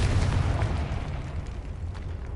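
The Confringo fire spell from Hogwarts Legacy bursts in a heavy, low explosion that starts loud and rumbles down over about two seconds.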